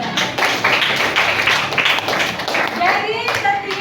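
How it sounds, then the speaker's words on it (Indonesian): Students clapping hands in a classroom, a modest burst of rhythmic applause with a teacher's voice talking over and after it. "Tepuk tangan buat Filbert."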